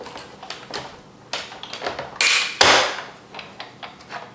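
Die-cutting machine cranking as cardstock is cut with Thinlits dies; a series of creaking, clicking mechanical bursts comes in close, with two louder grinding surges in the middle and lighter clicks trailing off.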